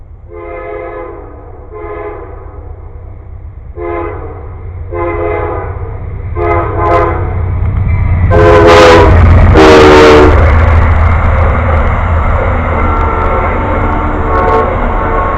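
A passing train sounds its horn in a series of loud, harmonic blasts, short repeated honks building to two long piercing ones, over a heavy rumble of rolling railcars close by.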